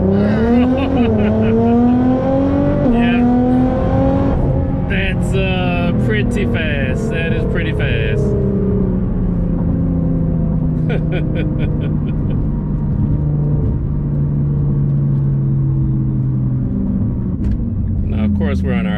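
A Nissan GT-R pulls away hard on a secluded road, its engine note climbing steadily and rising through the gears, loud and continuous, with people talking over it throughout.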